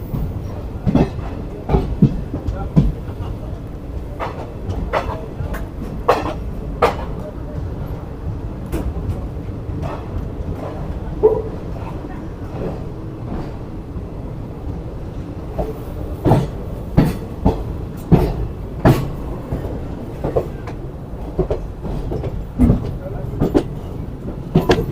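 The Ranikhet Express passenger train, Kathgodam to Jaisalmer, runs on rails near Moradabad Junction, with steady rumbling, rhythmic clickety-clack wheel beats and sharp rail clanks heard from inside the carriage, with faint talk at times.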